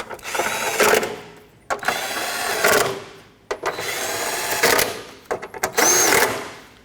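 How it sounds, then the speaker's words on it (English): Ratcheting or power-driven bolt tightening on the top piece of a 2005–2010 Pontiac G6 AC condenser, four bursts of whirring mechanical buzz separated by short pauses, close and fairly loud. "So now that they're all in, let's tighten them up."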